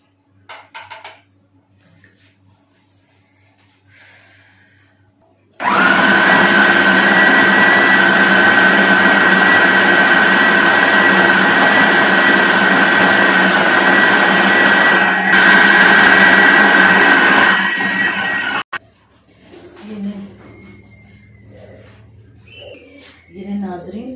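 A kitchen grinder blends two ingredients for beef shami kebab, starting abruptly with a loud, steady whirring roar that runs for about thirteen seconds before cutting off, with quiet talk and kitchen sounds before and after.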